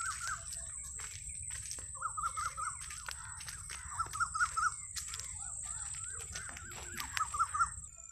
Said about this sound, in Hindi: और ये कोयल की आवाज़ भी आप सुन रहे होंगे।